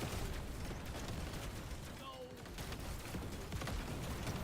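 Dense, continuous barrage of explosions and gunfire in the video game Deep Rock Galactic: Survivor, a loud, churning wash of blasts and booms running without pause throughout.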